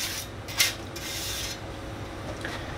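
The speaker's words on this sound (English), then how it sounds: "you wanna start scraping off the bottom" Metal scraping against the bottom of a Rinnai heater burner to loosen debris makes close rasping strokes, with one sharper scrape near the start and a few quieter rubs after it.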